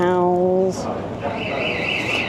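A supermarket exit security alarm sounds as a loud electronic tone for under a second, then gives way to quieter noise with a faint higher beeping tone continuing in the background.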